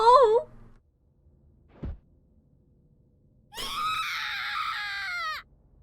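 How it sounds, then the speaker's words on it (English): Big screams from the horror video game Corpse Party: a long, loud, high harmonic scream with wavering pitch, preceded by a brief cry and a single low thud, then silence at the end. "Big screams."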